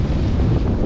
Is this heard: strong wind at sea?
yes